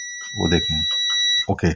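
Steady electronic beep from an LGK/LFL burner controller on a panel with a Weishaupt servo motor, a high continuous tone running through most of the moment while someone talks over it.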